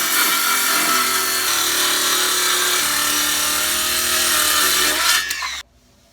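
A sharp-bladed saw cuts through the bottom edge of a wooden door in a loud, steady stretch of rasping, then stops abruptly, leaving near silence.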